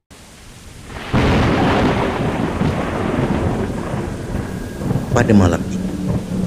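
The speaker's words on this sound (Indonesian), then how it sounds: "hujan renyai di luar" Rain falls outside at night with a deep rumble of thunder rolling underneath, a steady wash of sound that swells partway through while a voice speaks over it.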